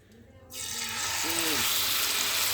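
Mustard oil hits hot oil in a pan on a gas stove, bursting into a loud, steady sizzle after a quiet start, with a brief voice-like tone partway through.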